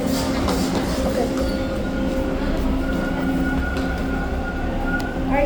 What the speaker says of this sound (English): Alright guys, so the train is leaving.